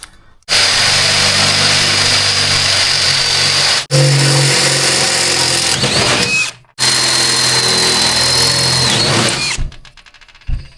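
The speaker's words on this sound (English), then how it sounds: "Now we're gonna go with a bigger bit so we can get the bolts fit." A power drill with a larger bit whines loudly and continuously while boring bolt holes for a golf cart back seat, pausing briefly twice before spinning down.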